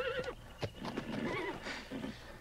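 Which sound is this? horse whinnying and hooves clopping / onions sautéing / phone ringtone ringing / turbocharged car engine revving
horse whinnying and hooves clopping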